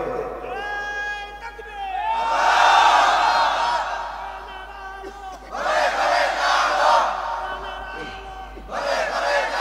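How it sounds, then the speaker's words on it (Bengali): A large crowd at an outdoor Islamic sermon gathering shouts the takbir in three loud, roaring bursts, each answering a single voice that calls out first. "কেন বলে একজন তাকবীর দেন জোরে"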